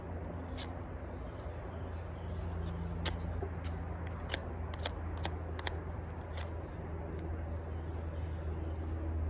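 A D2 steel Eafengrow EF973 folding knife scrapes and carves away rotted wood in quiet, irregular short strokes, close up with a low steady background hum.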